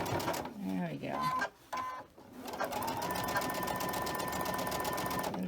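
A sewing machine stitches back over an earlier seam on a quilt block, its steady mechanical whir running close and loud after a brief stop-and-start, with a voice talking near the beginning.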